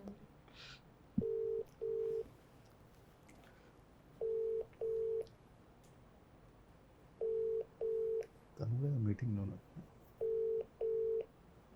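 After a phone call is cut off, a telephone line tone sounds as paired short beeps repeating at regular intervals, fairly clear, with a brief burst of voice in the middle.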